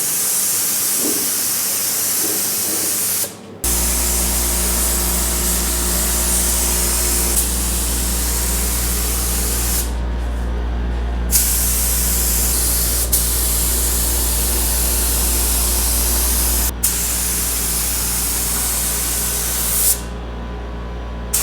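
Spray gun laying a second coat of epoxy on the bare metal of a GTO restomod, a loud close continuous hiss broken by short pauses as the trigger is released; no talk.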